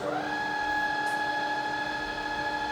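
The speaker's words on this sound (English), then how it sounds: "Just showing you the brake does work, and then reverse" A rebuilt Bridgeport milling machine with a 48-inch table runs steadily with a clean, high, tonal whine from the spindle, close by and without any talk.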